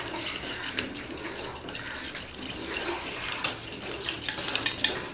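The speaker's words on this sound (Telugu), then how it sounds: "ఇప్పుడు మిక్స్ చేయాలి." A spoon stirs cocoa powder into milk in a pot or cup, giving soft liquid swishing with light, irregular metallic clinks that grow a bit sharper toward the end, close by and without talk.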